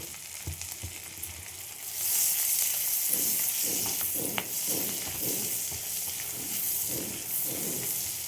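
Onions fry in butter and oil in a pan, quiet at first, then a bright, steady sizzle from about two seconds on, with regular stirring scrapes pulsing through it.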